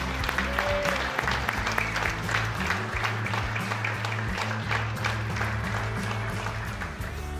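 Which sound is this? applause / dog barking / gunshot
applause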